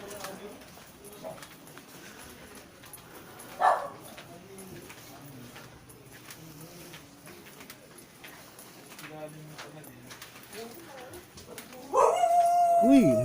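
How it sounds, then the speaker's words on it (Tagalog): A dog howls faintly in the distance, then louder near the end, with rising wavering tones amid street noise and a voice talking. "Uy, malulong yung aso."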